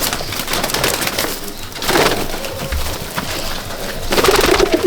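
Abluk dowbaz pigeons in a netted loft give repeated low cooing, close and fairly loud, with a steady background of rustling and other bird calls.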